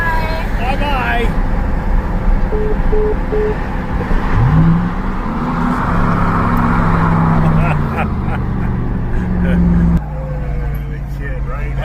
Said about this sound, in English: Driving the Ram truck.